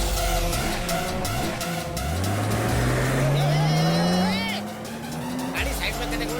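A car engine revs up and accelerates away, its pitch climbing steadily as it speeds off with a brief tire squeal, loud and close, amid dramatic film sound with voices in the background.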